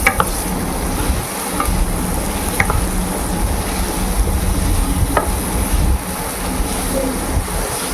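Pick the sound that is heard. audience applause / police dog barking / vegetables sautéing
vegetables sautéing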